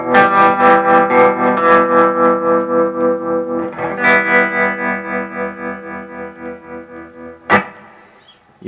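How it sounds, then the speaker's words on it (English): Electric guitar played through an Electro Harmonix Stereo Pulsar tremolo pedal in its smooth amp-style mode, sustained chords swelling and fading in a steady, gentle wave, loud and alone, with a sharp strum near the end. "it's going to sound more like an amp style tremolo, which is not going to be as choppy as the square wave."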